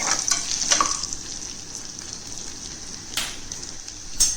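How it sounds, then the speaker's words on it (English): Cashews frying in a pan for little millet pongal, giving a steady close sizzle with a few sharper crackles and stirring clicks. "Look how nicely the cashews are starting to get golden brown color."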